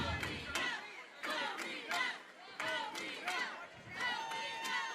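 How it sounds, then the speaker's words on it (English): Baseball crowd from Covina, California chanting the team name at a Pony League World Series game, rhythmic repeated shouts in regular bursts, somewhat distant and crowd-wide, carrying steadily over the stadium. "chanting Covina, rooting on the team on the visitor side of the scoreboard"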